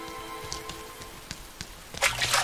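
Rain in the video game Rain, soft falling rain with scattered droplet taps under a faint steady tone, quiet and sparse before swelling into a louder gush of rain at the end.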